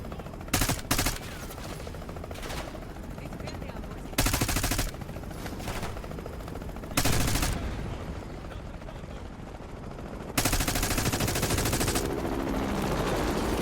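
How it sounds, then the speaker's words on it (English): Rapid XM4 assault rifle fire in the Black Ops 6 campaign, loud bursts recurring over steady background game noise, with sharp onsets at several points. "The XM4 is a really good gun."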